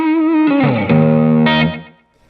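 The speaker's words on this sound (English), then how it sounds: "I want a little more overdrive. I turn that up, again, just like as if the pedal was right in front of me." Overdriven electric guitar through a Spark amp plays a sliding note, then a sustained distorted chord that rings loudly and cuts off, leaving near silence.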